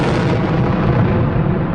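A loud, heavy rocket blast roars and rumbles continuously, a thick booming explosion with broad noise that slowly tapers at the top end.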